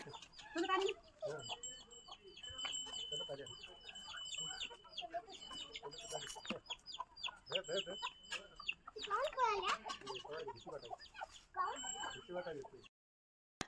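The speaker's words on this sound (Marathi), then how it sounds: "वीरला कोंबडीच्या छोट्या पिल्ल्याला पकडायचं होतं" Chickens cluck and chirp nearby, steady and scattered, with children's voices and talk mixed in throughout.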